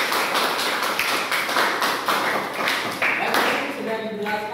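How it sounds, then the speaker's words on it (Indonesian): A small group applauds a student named Tika in a classroom coaching session, steady rhythmic clapping over several seconds with voices talking underneath. "beri aplaus untuk Tika"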